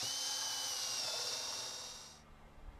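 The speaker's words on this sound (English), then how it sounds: "Drill a hole." Power drill boring a hole through a plastic rain barrel container near its top, a steady high whine for about two seconds that cuts off and leaves faint low handling noise, close and alone.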